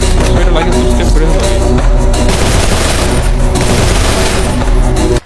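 Rapid MP40 submachine gun bursts in a mobile shooter game, loud sustained automatic fire with overlapping shots and booms filling the whole stretch before cutting off abruptly.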